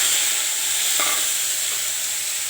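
Ground onion and garlic paste frying in a hot pan for jeera pulao, a continuous close sizzle and hiss with one brief clink of a utensil.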